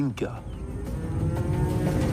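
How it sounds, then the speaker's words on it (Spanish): Dinka cattle, long-horned cows kept by herders along a great river, low near the start in a short bovine call over a steady outdoor rumble with some background chatter. "Viven junto a sus vacas, elegidas por la belleza de sus cueros y la elegancia de sus inmensas cornamentas."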